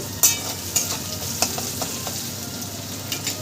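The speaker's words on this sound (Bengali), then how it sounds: "সমস্ত সবজি আমি লাল করে ভেজে নেব" Vegetables and small paneer cubes fry in a pan, with a soft, steady sizzle and a spoon scraping and stirring in sharp clicks every half second or so, close by and without talk.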